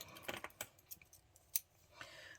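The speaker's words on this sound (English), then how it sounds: "I'm going to snip that tail off because it's going to make it easier to handle." Scissors make several quick, light snips through a paper card in a quiet room, a short irregular series of crisp clicks.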